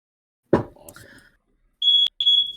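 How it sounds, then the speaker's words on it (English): Smoke alarm going off, set off by boiling: a loud, piercing high-pitched electronic tone sounding in two sustained bursts shortly after a brief spoken exclamation. "Sounds like a fire alarm."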